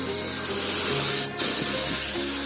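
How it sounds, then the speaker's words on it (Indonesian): A spray gun hisses in a steady continuous stream as it applies gold metallic car paint outdoors, with a brief burst of stronger spray partway through over a constant low background. "Nah, kita semprotkan cat emasnya"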